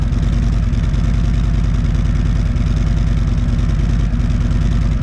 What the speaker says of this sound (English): you hear the idle right now